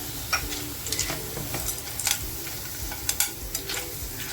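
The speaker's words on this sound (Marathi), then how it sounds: "आता जो मी कांदा खोबऱ्याचा मसाला करून घेतला होता तोही याच्यावर असा छान मिक्स करून घेते" Clams are mixed with an onion and fresh coconut masala in a pan over a low flame: gentle frying hiss under repeated light clicks and taps of a spoon against the pan.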